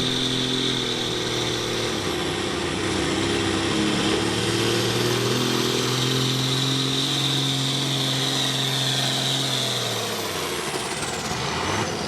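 A Case 1175 pulling tractor, an outlaw farm pulling machine, at a tractor pull at the Somerset County Fairgrounds: loud sustained engine roar holding steady with a slight pitch dip and rise, unbroken throughout.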